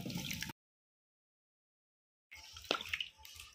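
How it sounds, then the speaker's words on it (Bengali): Tomatoes being washed by hand in water in a large basin: splashing and sloshing water in two short bursts separated by a silent gap, close and fairly quiet. "জল নিয়ে ভালো করে টমেটোটাকে ধুয়ে নেব এইভাবে"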